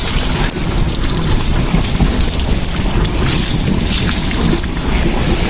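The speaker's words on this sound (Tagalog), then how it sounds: "Laki mga kabiwas na flatboat. May makina pa oh." A motorized flatboat out on the open water, its engine a steady continuous drone mixed with wind buffeting the microphone and the wash of waves, with no talking.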